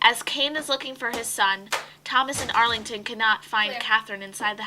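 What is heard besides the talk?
No distinct noise like a dog, phone or traffic.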